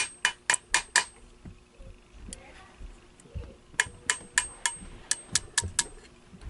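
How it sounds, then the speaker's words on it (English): A small hammer taps a filed-tip nail to drive a pin out of a Lionel #2036 toy locomotive chassis, sharp metallic clicks in quick bursts of four, then a pause, then a steady run of about nine strikes, close and crisp. "We have to knock this pin out in order to get the chassis out."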